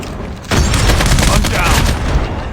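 Dense gunfire from a COD Mobile team deathmatch bursts in suddenly and stays loud, a continuous barrage of rapid shots and booms filling the rest of the moment.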